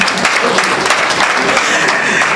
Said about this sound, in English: So give yourself a clap of hands.